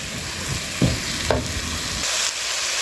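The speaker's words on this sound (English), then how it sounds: "So let's keep on stirring and turning over and over again." Cabbage sautéing in a pan while being stirred and turned over: a steady close sizzle with occasional scraping strokes of the utensil through the leaves.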